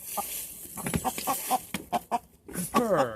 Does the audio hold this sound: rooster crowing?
yes